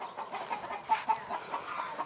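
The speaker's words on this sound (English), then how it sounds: "You're going to hear some roosters out here." Roosters clucking outdoors at a historic farm village, a run of short, fairly close clucks and calls in quick succession with no speech.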